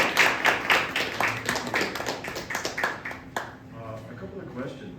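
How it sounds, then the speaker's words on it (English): An audience claps at the end of a student research presentation, a brisk burst of handclaps close by for about three seconds before fading out, with talk following. "Big round of applause."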